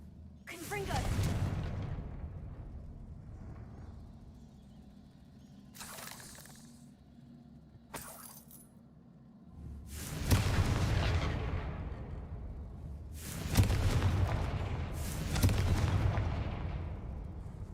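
Confringo blasting spells exploding during a troll fight in Hogwarts Legacy: a series of booming blasts, several seconds apart, each cracking sharply and then rumbling out, with quieter game sounds in between.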